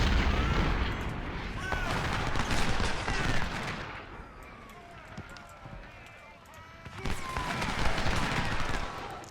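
Gunfire in a tactical strategy game, scattered crackling musket-like shots and battle din running throughout, loud at the start and again near the end, with someone talking over it.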